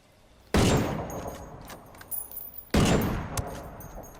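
Two loud, sharp gunshots from an L115 sniper rifle in the video game Ghost Recon Wildlands ring out about two seconds apart, each followed by a decaying echo and faint clicks.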